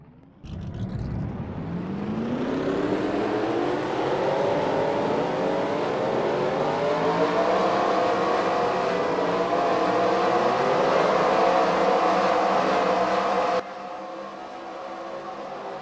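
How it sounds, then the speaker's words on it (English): A field of stock car engines in a NASCAR-style racing game at Arizona fire up after a quiet start, then a dense, loud roar of many engines rising and revving together for about thirteen seconds before dropping to a lower idle rumble. "Drivers, start your engines!"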